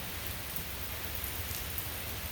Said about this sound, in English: you can hear it's raining